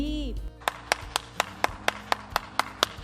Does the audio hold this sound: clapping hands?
yes